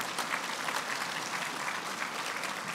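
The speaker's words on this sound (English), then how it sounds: "if we could give a big round of applause to Dignity Health and Rio Tinto for your support tonight" Steady, dense applause from an audience at a Kern County state-of-the-county address, sustained without break and fairly far off, with no speech over it.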